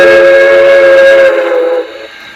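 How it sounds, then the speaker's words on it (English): A short, bright whistle toot from an LGB Mikado model locomotive's Zimo sound decoder, a single burst with harmonic tones that cuts off and fades quickly. "F2 is I have for a short whistle."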